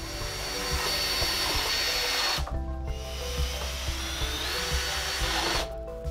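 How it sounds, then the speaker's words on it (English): Power drill driving screws into clamped wooden pieces, a steady loud whirring motor run that drops out briefly before starting again for another long drive. "I'll drive several screws into each one of them"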